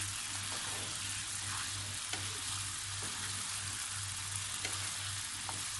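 Marinated chicken frying over a high flame for Lahori-style chicken karahi, with a dense, steady sizzle throughout, a low hum underneath and a few faint ticks of stirring.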